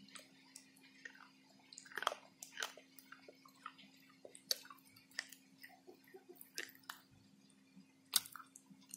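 Someone bites and chews a dipped slate pencil, producing a series of crisp, close crunches and clicks at irregular intervals over a faint steady hum, with no talking.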